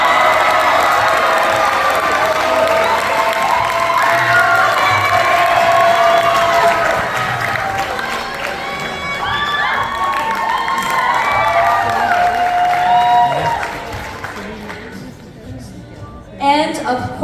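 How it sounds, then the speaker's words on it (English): A student audience at a Vietnamese Student Association culture night claps and cheers loudly for the executive producer, whoops and shouts over sustained applause that slowly fades near the end. "please give a round of applause to our executive producer,"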